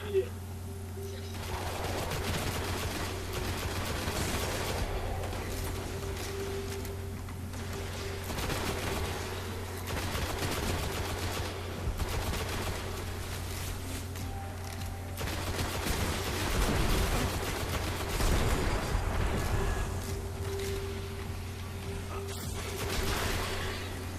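Gunfire in the Destiny beta video game: rapid bursts and volleys of shots run throughout over a steady low hum, and someone talks now and then.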